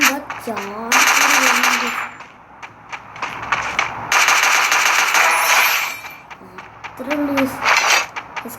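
Bursts of rapid automatic gunfire rattle loudly in a game, broken by pauses where a voice talks over the action.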